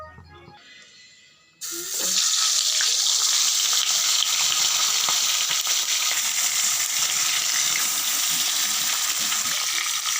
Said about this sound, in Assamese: গৰম হোৱাৰ পাছত মই মাছখিনি তেলখিনিত দি দিম।